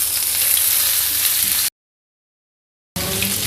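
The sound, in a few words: chopped onion frying in oil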